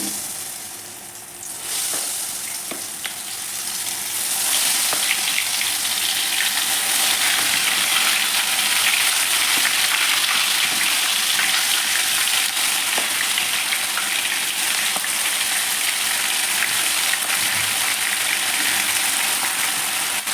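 Mushrooms dropped into hot oil on a stove for kebabs, the sizzle surging to a loud, dense, continuous crackle as the moisture hits the oil and holding steady at close range throughout.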